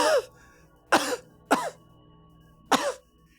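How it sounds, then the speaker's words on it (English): Four short, raspy coughs with throat-clearing, close and fairly loud, spaced irregularly over a few seconds with quiet gaps between them; no one speaks. "coughing"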